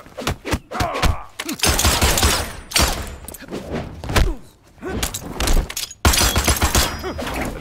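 Gunfire in a fighting-game final round, several bursts of shots and impacts crashing in close and loud across the fight, broken by brief pauses.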